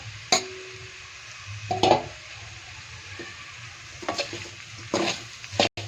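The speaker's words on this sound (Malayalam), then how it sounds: "നന്നായിട്ടൊന്ന് വഴറ്റിയെടുക്കുക ബീഫ് നന്നായിട്ട് വരണ്ട് വന്നിട്ടുണ്ട്" Minced cooked beef is sautéed and stirred in a pan for cutlets, with soft sizzling broken by a few sharp spoon scrapes against the pan.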